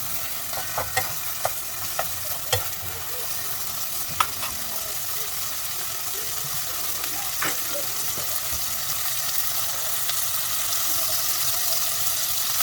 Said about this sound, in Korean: 토마토 안 타게 잘 볶아주시면 됩니다